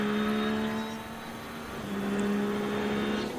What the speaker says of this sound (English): Listen to the engine. Little wheel spin when he gets up on that curb.